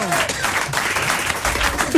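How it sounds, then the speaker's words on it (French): Brief burst of studio audience clapping on a French television comedy show, moderately loud and mixed with some background voices. "tout le monde t'applaudit"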